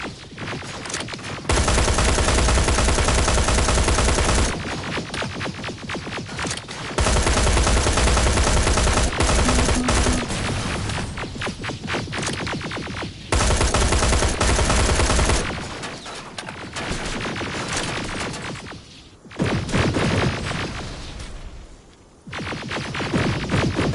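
Loud, sustained automatic gunfire from the Terminator Resistance video game on PS4 Pro comes in long dense bursts, broken by short pauses and quieter stretches.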